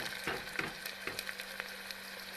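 Cumin and onion frying in hot oil for a dal tadka, a steady close sizzle with small crackling pops scattered over a constant hiss, no voices.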